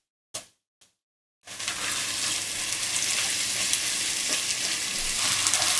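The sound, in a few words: ginger and garlic paste frying with onions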